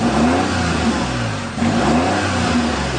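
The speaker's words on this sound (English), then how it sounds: "Let's go ahead and crank her up for you. Fuel injected, so starts real easy." A fuel-injected 2015 Kawasaki Mule Pro FXT LE side-by-side engine turns over and settles into a smooth, steady mid-pitched run, close and fairly loud, with a brief dip in the middle and no talking.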